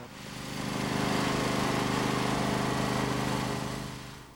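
John Deere L100/G100 series lawn tractor engine running steadily while backing up, a continuous droning motor hum that swells and fades slightly, with no talk over it.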